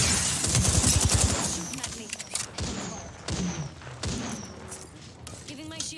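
Rapid gunfire in an online shooter video game, loud bursts of automatic fire with sharp repeated cracks followed by spaced single shots, with players talking over it.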